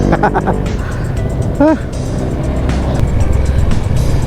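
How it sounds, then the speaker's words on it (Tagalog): Steady road traffic in Tarlac City, a continuous rumble of passing cars and motor vehicles with a brief horn-like tone partway through, heard up close from a moving motorcycle. "Medyo traffic lang talaga dito sa Tarlac City."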